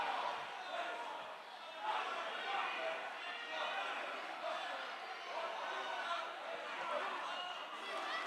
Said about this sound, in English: And the crowd taking them all the way through the line.